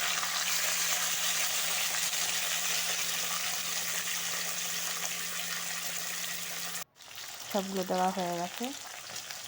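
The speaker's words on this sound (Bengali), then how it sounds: "আর এখন দিয়ে দিচ্ছি মাছগুলো, ভেজে নিচ্ছি" Rohu fish pieces frying in hot oil in a kadai give a loud, steady sizzle for about seven seconds. Then the sound cuts and a voice speaks briefly over quieter frying.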